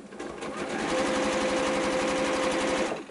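A sewing machine chain pieces fabric scraps together, a fast steady mechanical whir running continuously for a few seconds, close and clear.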